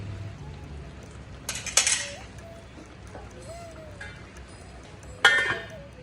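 A lid goes onto a cooking pot of prawn and ash gourd curry with two brief metallic clatters, the first a short rattle near the start and the second a sharp clink later, over a quiet kitchen background.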